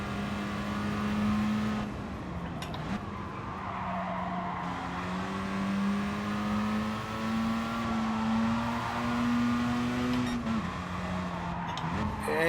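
Race car engine in Gran Turismo Sport, a rear-drive FR challenge car droning steadily at high revs, rising and dipping with gear changes while tires squeal through a corner.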